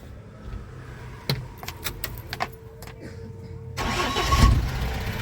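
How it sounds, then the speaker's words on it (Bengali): A pickup truck's engine starting: keys jingle and soft clicks first, then the starter cranks and the engine catches about four seconds in, settling into a close, steady rumble. "গাড়ির ইঞ্জিন ফিঞ্জিন একদম ফুল ওকে"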